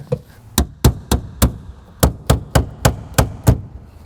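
A hammer strikes car body work on a 1998 Ford Contour, about a dozen sharp metallic knocks in an uneven rhythm, close and distinct with quiet gaps between blows.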